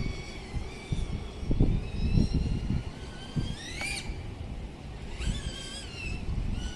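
Motors of a small, powerful FPV drone spinning up during a thrust test, a close whining buzz whose pitch rises in sharp bursts over a rumbling, windy background, with no talking.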